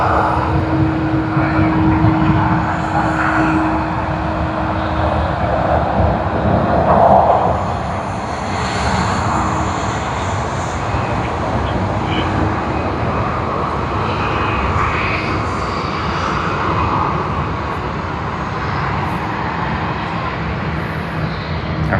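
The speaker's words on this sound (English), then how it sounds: "Vietnam Airlines taxiing." A Vietnam Airlines airliner taxiing at Sydney Airport, its engines giving a steady, broad jet rumble at moderate distance that swells briefly early on and then holds even throughout.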